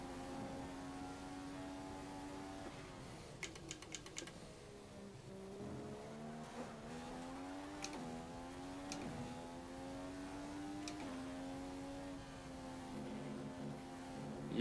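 A Formula 1 car engine in the racing game F1 2015 during qualifying at the Malaysia Grand Prix: a high, harmonic whine that climbs through gears, drops on downshifts and rises again, fairly quiet and continuous.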